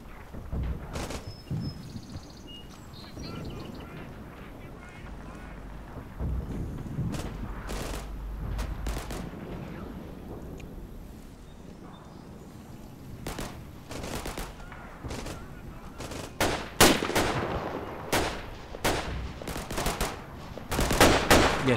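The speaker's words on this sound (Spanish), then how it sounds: "Otro mortero." Mortar explosions and gunfire in the World War II video game Combat Mission: Battle for Normandy: steady bursts of distant rifle and machine-gun fire with scattered booms, growing denser and louder with sharp close cracks near the end.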